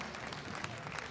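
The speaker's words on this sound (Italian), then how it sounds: "Bravissimo, un applauso solo per questo." Amateur talent show audience in Acquanegra sul Chiese applauding a singer of a country song, a steady, fairly quiet wash of clapping from a crowd filling the moment without pause.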